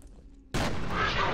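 Gunfire in the shooter FEAR starts suddenly after a quiet moment and becomes a loud, sustained volley of shots with a dense, noisy texture.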